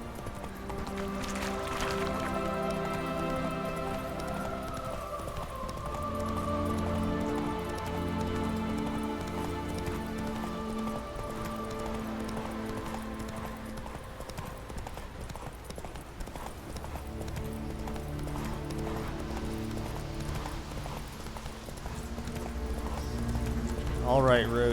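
Roach, a horse in The Witcher 3, gallops with steady clip-clop hoofbeats under a sustained orchestral score, with rain faintly present and a brief whinny near the end.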